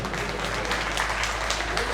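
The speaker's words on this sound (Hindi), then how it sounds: "जोरदार तालियां हो जाए मेरे लिए।" Audience clapping at a devotional Sai sandhya evening program in Raghunagar, a dense, steady wash of applause that holds evenly throughout at moderate loudness with no pause.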